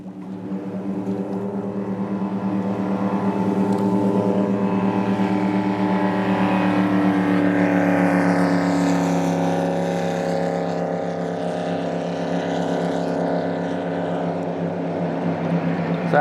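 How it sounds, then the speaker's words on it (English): A big Southern 80 racing speedboat roars past on a river, its engine note swelling loudly to a peak and then fading slowly, with no talk over it. "So that's a big Southern 80 racing boat."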